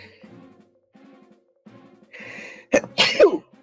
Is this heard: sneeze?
yes